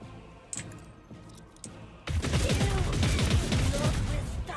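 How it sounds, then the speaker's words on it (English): Rapid gunfire erupts in the Rogue Trader tactical game, starting abruptly after a quiet stretch and continuing as a dense, loud barrage of shots and impacts. "We're just gonna do a rapid fire at these guys."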